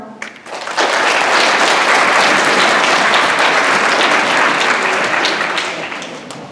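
A large school audience at a wax museum presentation bursts into sustained applause, loud and steady for several seconds before tapering slightly at the end.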